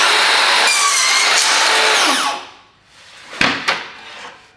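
A Mafell KSS60 cordless crosscut saw cuts through a wooden board, a loud, steady high whine for about two seconds that winds down, followed by a couple of sharp knocks.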